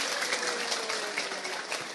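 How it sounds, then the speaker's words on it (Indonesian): An audience at a gathering claps together in a steady, moderately distant wash of applause that holds evenly for a couple of seconds with no voices on top. "Tepuk tangan dulu dong, mantep nih."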